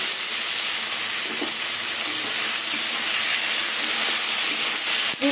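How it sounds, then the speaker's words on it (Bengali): Shrimp frying with potatoes and onions in a pan, a steady close sizzle and hiss that runs without a break, loud and even, with a faint clink near the end and no talking. "এই চিংড়ি মাছ দিয়ে আলু পেঁয়াজ আবার কিছুক্ষণ ভেজে নেব।"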